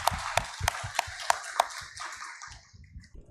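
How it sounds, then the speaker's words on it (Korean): A church congregation claps together in a sharp, even rhythm, six strong beats that then soften and trail off into scattered quieter claps. "영광의 하나님께 박수를 한번 올려드립시다"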